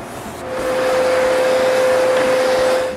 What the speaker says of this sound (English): I lightly sand the varnish with a 220 grit sandpaper.